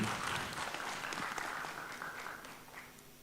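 Seminar audience applauding after a talk on circular economy and waste management, a sustained wash of many hands clapping that gradually fades, moderately loud with no voices.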